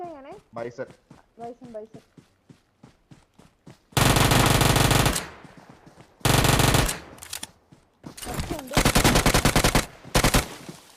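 Free Fire video game gunfire: long, loud bursts of automatic fire, a few single shots, and quieter clatter between them, with a player's voice talking at the start.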